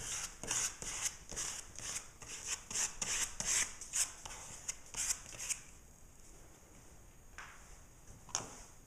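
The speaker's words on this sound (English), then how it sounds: "let's see what happens if I do some scraping over top of this." Rapid repeated scraping strokes across paper, a close rhythmic rasping run that slows and thins into a few scattered scrapes near the end.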